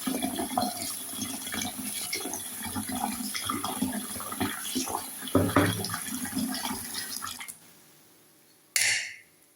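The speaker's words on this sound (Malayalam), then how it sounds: "ഇനി ഈ ചോറിലേക്ക് കുറച്ച് നോർമൽ വെള്ളം കൂടി ഒഴിച്ചു കൊടുക്കണം." Plain water pours into a pot of freshly cooked rice, splashing and gurgling steadily for several seconds before stopping, followed by a short splash near the end.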